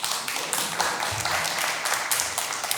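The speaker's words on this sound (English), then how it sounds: "Please, round of applause." An audience at an awards celebration gives a round of applause, dense steady clapping from many hands throughout, fairly loud and without talk.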